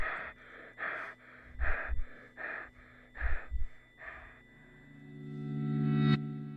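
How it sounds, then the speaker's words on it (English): Knocks on a door land in two quick pairs among a run of harsh, rhythmic panting breaths, followed by a rising electronic drone that swells and cuts off, all fairly loud with no talk. "What we just heard was the sound of someone knocking on a door, followed by panicked breathing."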